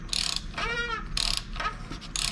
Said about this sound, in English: This is where if you have a torque wrench is what you want to use.